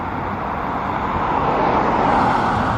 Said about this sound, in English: once in a while a car will just pass